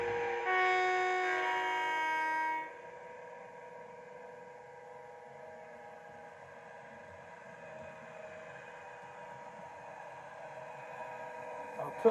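An Accurascale class 92 model locomotive with DCC sound hums as it rolls, a loud tonal electric whine that drops suddenly to a quieter steady drone for the rest of the run.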